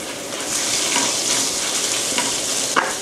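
Chinese liquor goes into pork stomach sizzling in a pan, giving a loud, continuous hiss of frying with faint stirring scrapes and a brief sharper burst near the end, with no voices.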